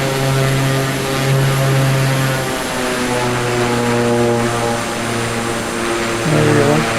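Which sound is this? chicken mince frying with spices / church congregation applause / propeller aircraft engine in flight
propeller aircraft engine in flight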